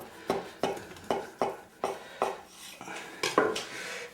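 A knife presses through roasted chestnut bread dough for a plait, giving about ten evenly spaced soft thuds against the board, close and fairly quiet, with no voices.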